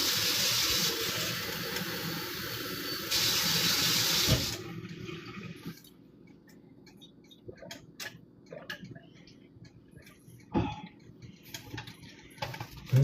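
Tap water runs into a pot being filled for boiling, a steady loud rush lasting several seconds before shutting off, followed by quiet clinks and knocks of handling.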